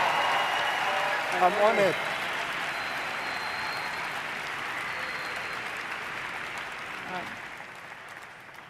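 Audience at the 2023 UNHCR Nansen Award ceremony applauding and cheering in a steady, dense roar that fills the room, with a brief spoken voice rising over it near the start.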